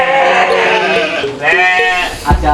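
Sheep bleat loudly and close by on a village farm kept for a food-security programme, several overlapping wavering calls in quick succession, with no talk over them.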